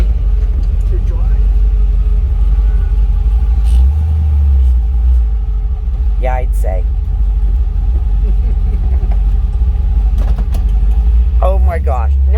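A 1936 Cadillac rat rod gives a continuous low engine rumble from inside the moving car, with brief conversation and a few chirpy noises over the steady drone.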